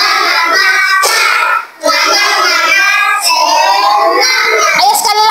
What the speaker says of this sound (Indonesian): Ayo tepuk semangat, tepuk semangat.